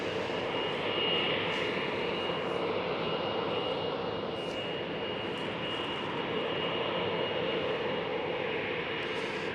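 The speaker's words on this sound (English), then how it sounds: "A321 Neo pushed back." Air Astana Airbus A321neo jet engines run steadily after pushback at Amsterdam Schiphol, a constant broad roar heard from a distance with no voices.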